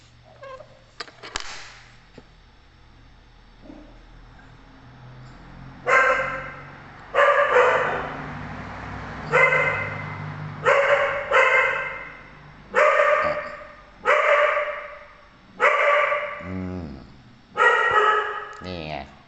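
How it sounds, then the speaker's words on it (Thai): Dogs bark in a steady series of sharp, loud yaps, roughly one every second or so, repeating about ten times after a few scattered quieter sounds at the start. "เสียงหมาเห่า"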